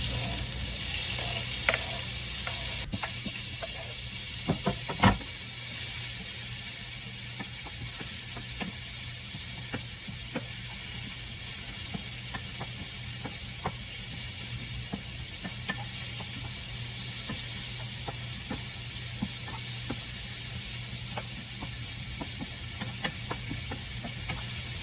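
Tomatoes and onions sizzle steadily in a pan with squid, a dense continuous frying hiss lasting throughout, with a few brief clinks of stirring near the start and no talking.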